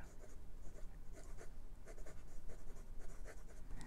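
Sailor 1911 Large fountain pen nib scratching across paper in soft, quick, irregular strokes, close up and faint with a light textured scrape.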